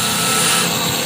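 An abrasive sanding disc grinds against polished stone, a loud continuous close whirring drone with no break and no talking.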